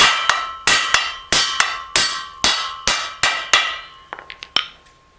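A hammer drives a socket against the bearing cup of a drive shaft u-joint: about eleven sharp, ringing metallic blows at a steady pace, then a few quicker, lighter taps, close and loud with no talk.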